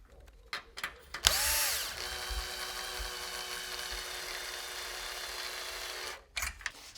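A power tool with a 5/16 deep socket snugs up nuts on a bracket of a 2005-07 Ford F250/F350. A loud drill whine starts after a few clicks, runs steadily for several seconds, then cuts off, with handling clatter around it.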